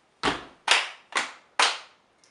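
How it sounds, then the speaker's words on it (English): Four sharp, evenly spaced hand claps, close and isolated, in a simple rhythm exercise with a faint fifth tap at the end. "and then you clap again"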